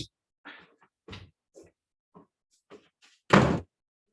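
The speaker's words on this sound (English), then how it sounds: "let me just shut the door because the dogs are driving me nuts" A house door shut firmly at home, one loud thud near the end after a series of quieter knocks and bumps, with dogs about and no talk over it.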